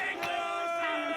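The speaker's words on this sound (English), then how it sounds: "the crowd behind us, some supporters, started chanting 6-3" A crowd of supporters chants in unison, their massed voices rising and falling in a rhythmic group cry that sounds somewhat distant and steady.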